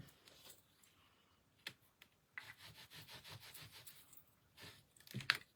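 A hand rubs down a surface during an art class, giving soft, close scraping and rubbing strokes in short irregular bursts, quiet overall.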